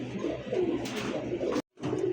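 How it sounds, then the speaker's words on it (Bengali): Pigeons coo in a loft, soft rolling throaty calls repeating close by over a steady background hum, with a brief dropout near the end before the cooing resumes. "দর্শক স্ক্রিন দেখতে পাচ্ছেন আকাশি কালার কলসি গলা দুইটা কবুতর একইবারে ভাই"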